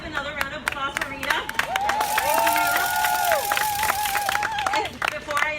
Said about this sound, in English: please let's give another round of applause for Rita